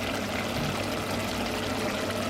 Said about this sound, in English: So I'm gonna add half a cup of water.